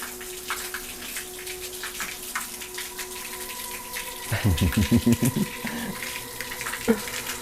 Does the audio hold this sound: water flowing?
yes